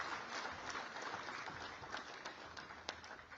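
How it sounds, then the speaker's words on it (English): Audience at the inauguration of the Motilal Oswal Executive Centre, Indian School of Business, Gachibowli, gives a round of applause, fairly faint scattered clapping with a few sharper individual claps, heard from a distance. "Can we give another round of applause?"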